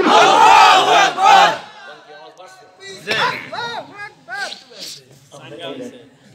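A crowd at a Bangla Islamic waz sermon gathering roars back in unison after a takbir call, a loud massed shout that swells briefly before scattered voices and a lone speaker continue.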